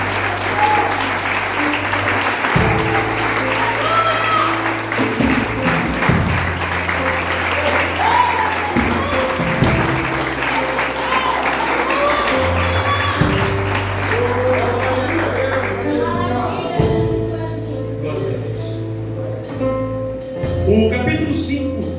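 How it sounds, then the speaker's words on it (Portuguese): A church congregation at a family worship service claps continuously and loudly for the Lord, a dense sustained wash of applause over a held musical accompaniment that carries on throughout. "dá uma salva de palmas ao Senhor"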